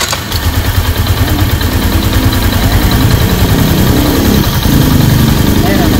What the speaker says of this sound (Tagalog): ito na yung ating ginawang motor at marami din napalitan at okay na yung kanyang andar